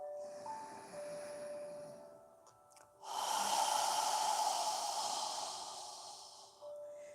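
A slow yoga exhale swells into a long, soft breathy rush that fades gradually, preceded by quieter breathing and faint room hum.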